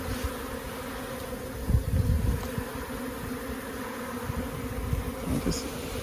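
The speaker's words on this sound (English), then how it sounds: "what am I going to do about all the bees that are loose?" Honey bees loose from a captured swarm hum steadily in a dense, continuous drone around the listener, with a few louder close passes and low rumbling handling bumps outdoors.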